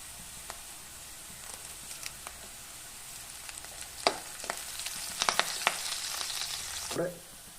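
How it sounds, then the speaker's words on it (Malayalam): Curry leaves drop into hot oil for a pepper chicken roast, producing a continuous close frying hiss that breaks into sharper spitting crackles in the second half. "നമുക്ക് ഇതിലേക്ക് കറിവേപ്പില ഇട്ട് കൊടുക്കാം."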